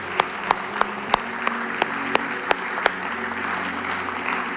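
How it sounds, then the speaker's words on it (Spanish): A church congregation gives loud, sustained applause that fills the room, with a few sharp, regularly spaced claps standing out above the crowd and a low hum beneath. "Un fuerte aplauso al Señor"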